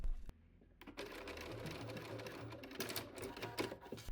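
Sewing machine stitching a vanity case, running in short steady bursts with a rapid mechanical rattle, close and fairly quiet, stopping and restarting between seams.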